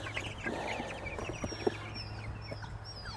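Young meat chickens clucking as they are let out of a brooder box on a farm, a steady soft chorus of close, overlapping clucks and peeps over low background hum.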